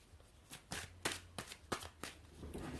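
Tarot cards riffled and shuffled in several quick bursts, close and crisp, with short pauses between each pass and no talking.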